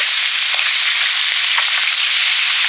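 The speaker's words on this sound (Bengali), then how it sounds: "মাছ ভাজছি প্রথমে" Fish fries in hot oil with a loud, continuous hiss and crackle, close up, with a few sharper pops.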